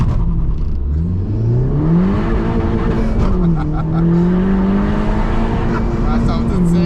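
A Honda Civic Type R FK2 engine roars loudly during a launch, revving upward through the gears, pitch climbing, shifting and climbing again in a hard, sustained acceleration.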